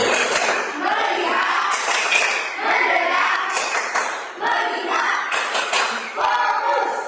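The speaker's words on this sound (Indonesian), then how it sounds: "Tepuk fokus." A classroom of standing students performs a 'tepuk fokus' clapping chant, bursts of rhythmic group clapping alternating with chanted voices in a patterned sequence, loud and close.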